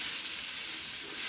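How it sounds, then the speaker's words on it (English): Spinach and garlic sizzle steadily in a hot pan, a continuous close frying hiss with faint crackle and no voices. "We're going to keep cooking this until our spinach gets soft and blended in everything."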